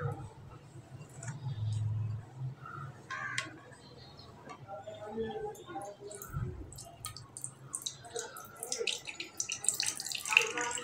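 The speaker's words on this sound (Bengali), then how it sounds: "আমি এবার এটা একটা ছাঁকনির মাধ্যমে ছেঁকে নেব।" Grated watermelon pulp being strained through a sieve in a kitchen, with faint wet trickling, dripping and soft scraping sounds, quiet and intermittent, over low background hum.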